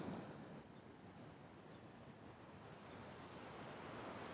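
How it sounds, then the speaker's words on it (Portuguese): Floodwater rushes down a canal in Crato, Ceará, after heavy overnight rain. The flow makes a continuous, faint, broadband roar that sounds like surf or wind, steady from start to finish with no voices. "Ainda continua descendo aqui bastante água que vai para o açude do Castanhão. Água com força mesmo."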